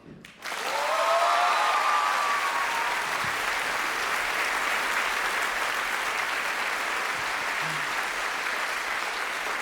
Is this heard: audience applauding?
yes